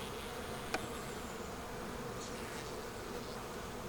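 Honey bees buzzing in an opened, weak hive, a dense steady drone close by and continuous throughout, with one faint click early on.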